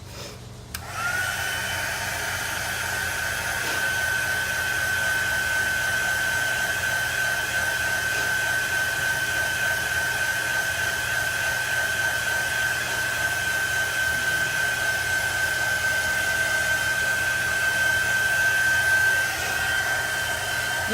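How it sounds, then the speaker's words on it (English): A heat gun blows hot air steadily over a chalk transfer on a custom sign, a continuous close whooshing hiss with a faint high whine that runs for about twenty seconds with no voices. "Where did my heat gun go?"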